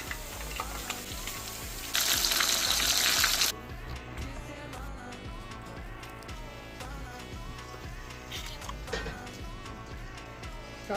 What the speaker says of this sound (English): Shallow fry in beef tallow.